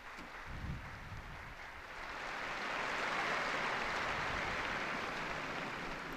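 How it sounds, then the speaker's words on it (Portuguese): A large crowd of faithful and pilgrims at the Angelus in Rome applauds the new beati, a broad, steady wash of distant clapping that swells after the first couple of seconds and holds. "Um aplauso aos novos beatos."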